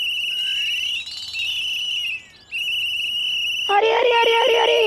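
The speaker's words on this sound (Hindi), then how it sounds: "काहे यहाँ कान में आके जोर जोर से सीटी मार रहे हो" A loud, shrill whistle holds one steady high pitch almost without a break, dips briefly in the middle, and ends in a burst of busier, harsher sound.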